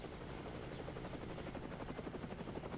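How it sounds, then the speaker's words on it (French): A helicopter approaching in the zombie survival game HumanitZ, its dense rotor chop filling the air as a steady, rumbling, broadband throb with no voices over it. "J'entends un hélico! Hélico en approche!"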